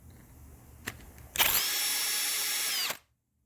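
A power drill spins out a Torx screw during a repair, a short tap followed by a steady high whine lasting about a second and a half, then stopping abruptly into silence.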